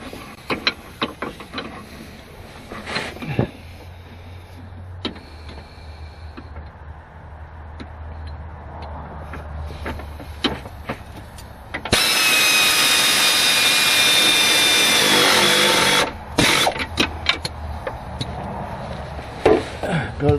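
A power tool torques down bolts joining an engine chassis to a formula car body, giving a loud sustained whir of several seconds between scattered clanks, ratchet clicks and shop noise.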